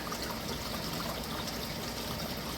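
Water drops from a pond into a creek, aerating as it falls: a steady, close rushing trickle with continuous broadband splashing and no voices.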